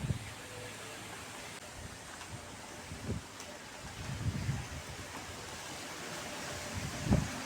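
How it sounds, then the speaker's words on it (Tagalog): Steady rushing wind noise buffets the microphone outdoors near papaya trees, with low gusty rumbles swelling at moments and no clear voices. "Lakas yung hangin."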